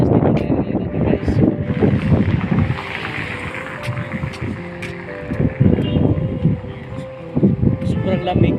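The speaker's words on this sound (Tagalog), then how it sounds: "Ayan, sobrang hangin. Ayan, mahangin guys." Strong, cold wind gusting around a person walking outdoors, producing a heavy, continuous rumbling buffet across the whole clip, with a voice speaking intermittently underneath.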